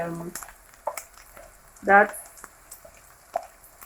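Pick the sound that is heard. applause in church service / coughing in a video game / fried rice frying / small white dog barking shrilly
fried rice frying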